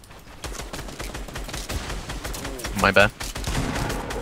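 Rapid gunfire in the video game Fortnite, a dense crackle of shots running throughout with a louder burst near the end, while a player talks briefly over it.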